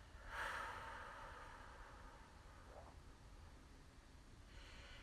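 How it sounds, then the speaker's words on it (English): A single breathy exhale through the mouth during a guided morning breathing exercise, a soft whooshing sigh near the start that fades over about a second, followed by quiet room hiss with a faint later rustle. "Exhale through your mouth."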